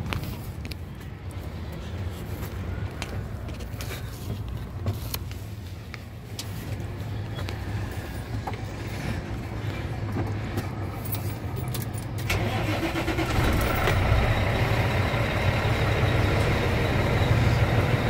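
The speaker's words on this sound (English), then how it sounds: "Engine sounds pretty good." Volvo VNL 670 truck engine with 1.6 million miles starting and settling into a steady diesel idle, a continuous loud rumble that grows slightly louder and rougher toward the end, with no talk over it.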